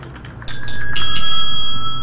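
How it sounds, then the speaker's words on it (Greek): A doorbell in the video game Hello Neighbor rings with a bright, metallic chime. Several quick strikes blend into a sustained, ringing tone that stays loud and close before slowly fading. "Σου χτυπάω το κουδούνι."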